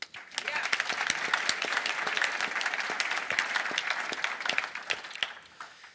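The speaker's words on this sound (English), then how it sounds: "So, you know, a big applause to that." Conference audience applauding at an international event, crisp individual claps forming a lively, fairly close round that swells and then tapers off near the end.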